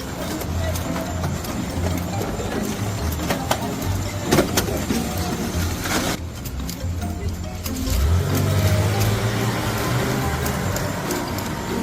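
A getaway car pulling away from a store, a low engine rumble and road noise that swells and grows heavier toward the end, with a few brief knocks along the way.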